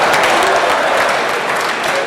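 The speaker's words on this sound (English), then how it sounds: "I'm not finished and you're clapping" A crowd at a Rivers State government gathering bursts into sustained, loud, dense applause that carries unbroken from start to finish, with a voice faintly underneath.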